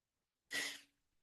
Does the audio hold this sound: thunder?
no